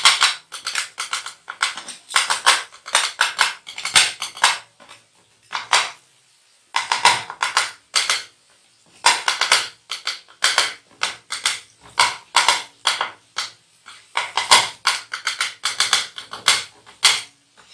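Flat metal spoons crush and toss chicken pieces on a hot griddle for chicken kata kat, making fast, rhythmic clanking and clattering in rapid bursts with brief pauses between them. The sound is loud and close, with no talking.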